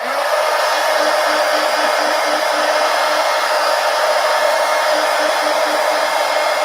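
A heat gun drying glue and paint on a craft design in an art journal, a loud steady blowing whoosh held unbroken and close for several seconds, with no talk.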